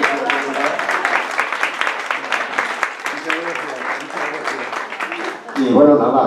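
Audience at a poetry evening claps steadily for about five seconds, a dense patter of hands in a room, before a voice comes in near the end.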